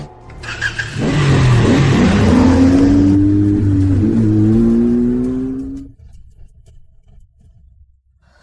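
A motorcycle engine roars up into a loud, sustained rev with rising pitch, holds for several seconds, then cuts off abruptly, leaving a quieter rumble behind.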